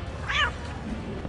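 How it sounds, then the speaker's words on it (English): A single short cat meow from a video game rises briefly over a steady low background hum, with no talking. "So one of the challenges is to meow 25 times."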